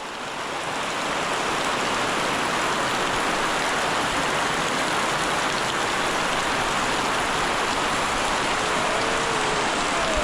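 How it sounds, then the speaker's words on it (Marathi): Heavy monsoon-like downpour in Konkan in May, a steady dense hiss of rain falling without pause, loud and close, with no voices. "मे महिन्याच्या वीस तारखेला एवढा जोरात पाऊस पडतो आहे"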